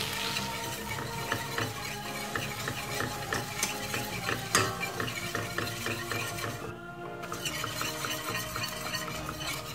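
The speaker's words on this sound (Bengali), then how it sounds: "এখন আমি এই বাটারের মধ্যে 2 টেবিল চামচ ময়দা, রেগুলার ময়দা অ্যাড করে দিচ্ছি। এটাকে একটু ভেজে নিতে হবে।" Flour frying in melted butter in a pan for a white sauce, giving a soft continuous sizzle mixed with steady scraping of a spoon stirring, moderately quiet, with no talking.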